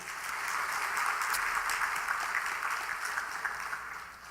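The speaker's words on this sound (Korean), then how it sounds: "특별히 구역장님에게 격려의 박수 한번 하세요." A church congregation at a Sunday evening service breaks into dense, continuous applause, loud and even throughout, with no speech over it.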